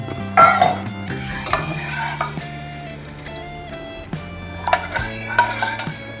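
A ladle scrapes and clinks against a pan as rice batter with water is stirred to thicken for vattayappam, with intermittent close metallic knocks and scraping over a low background hum.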